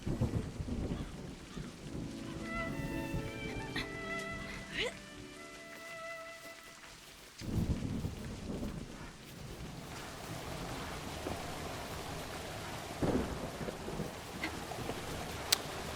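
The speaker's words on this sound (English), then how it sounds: "It's storming." A thunderstorm with rain plays in the video game A Highland Song, with steady rain hiss and a deep rumble of thunder under a musical tone and soft game sounds, continuing throughout.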